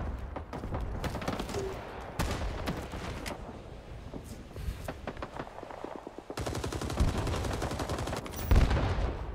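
Dense, continuous gunfire from the video game Rising Storm 2: Vietnam, with rapid automatic bursts and scattered single shots close and loud, building to a heavier stretch near the end.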